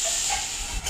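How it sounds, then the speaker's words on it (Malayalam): Steam hissing steadily from a pressure cooker whistle in a home kitchen, a continuous close, fairly loud hiss that dips briefly near the end. "ഇടയ്ക്ക് കുക്കറിൻ്റെ സൗണ്ടൊക്കെ കേൾക്കണം, ക്ഷമിക്കണേ"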